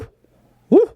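A man imitates an owl call with his voice, giving one short hoot near the end after a brief silence.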